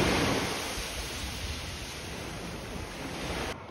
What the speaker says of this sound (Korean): 바닷물이 안쪽까지 꽤 깊이 밀려오네요